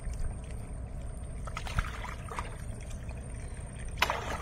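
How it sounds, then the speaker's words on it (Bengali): Ships on a river in the Sundarbans mangroves pass with a steady low rumble and the wash of moving water, heard at a distance and fairly faint, with a brief splash or knock toward the end and no talking. "দেখেছো কত জাহাজ যাচ্ছে, দেখেছো?"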